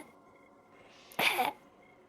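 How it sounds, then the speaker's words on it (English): A single sharp, breathy cough bursts out about halfway through, loud against an otherwise quiet background. "You should be wearing your mask if you're coughing."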